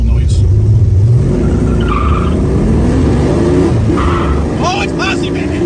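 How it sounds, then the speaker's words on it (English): A muscle car with a 351 engine and a Hurst 4-speed shifter, loud and close, its engine roaring as the tires squeal and skid, with excited voices talking over it. "You gotta love these 351s backing up on a Hurst 4-speed shifter."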